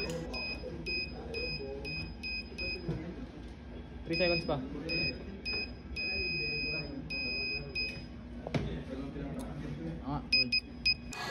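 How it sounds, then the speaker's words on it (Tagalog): A push-button-powered electronic buzzer in a student robotics build sounds in repeated bright beeps of varying length, some short and some held for seconds, under ongoing talk nearby. "Activity 4, buzzer powered by button."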